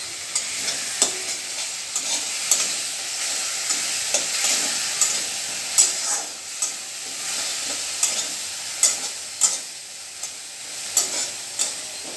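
Tomatoes and vegetables sizzle steadily in a pan as chili powder goes in, a continuous bright frying hiss broken by repeated soft stirring scrapes, close and with no talking.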